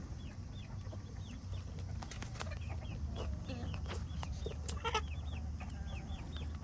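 Brahma chicks and chickens cluck and peep repeatedly on an afternoon outing, with the high chirps of chicks scattered over a steady outdoor background and occasional wing flaps.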